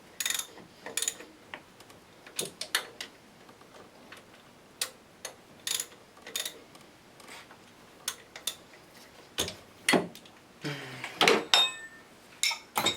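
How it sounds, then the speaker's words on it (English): Bolts are snugged up on a VW Golf/Jetta ALH TDI diesel engine during a timing belt job, heard as a run of sharp, irregular ratchet clicks and metallic taps, close and fairly quiet between bursts. "Then snug these bolts up."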